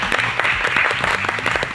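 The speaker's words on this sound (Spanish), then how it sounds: "un fuerte aplauso para ustedes" Applause from a studio audience for all the competing teams at a Bible quiz programme, a brief, loud, dense burst of clapping with no voices over it.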